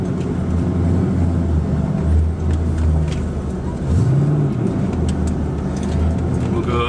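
A car with a subwoofer box installed drives along, its engine and road noise steady and close with a deep low rumble throughout.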